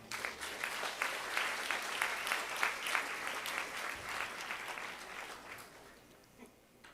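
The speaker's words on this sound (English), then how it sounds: "So, ladies and gentlemen, a last round of applause," Audience applause at a social good summit, a full crowd clapping steadily and warmly, then gradually thinning and tapering off toward the end.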